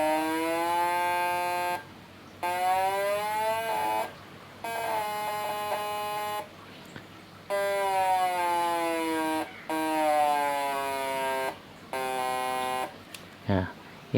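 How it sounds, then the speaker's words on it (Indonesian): A PDC fish electroshocker gives off a loud, rising and falling electrical buzz, heard in several bursts of about two seconds each with short silent breaks between them. "Nah, PDC pun suaranya seperti ini."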